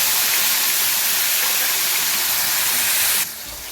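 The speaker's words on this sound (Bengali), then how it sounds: "এবারে পেঁয়াজটাকে খুব ভালো করে একটু ভেজে নেব প্রথমে, যাতে পেঁয়াজের কাঁচা গন্ধটা চলে যায়" Onion paste frying in oil after cardamom and cloves hit the pan, a steady, loud, dense sizzle that holds evenly and then drops off sharply near the end; no voices.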